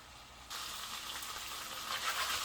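A lamb steak rubbed with Creole spices sears in a skillet, its sizzle jumping up suddenly and then holding as a steady, close, hissing fry.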